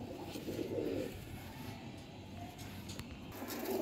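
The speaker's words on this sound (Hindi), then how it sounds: "ले जी ये कबूतर है जी, ठीक है जी गोल्डन कबूतर है" Golden pigeon with clipped wings and dyed feathers among high-flyer pigeons in Lahore, giving low soft coos that repeat over a steady background hum.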